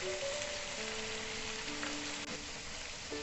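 Chicken frying with onion and grated ginger in a pan gives a steady, close hiss of sizzling oil, even and continuous throughout, with no voices.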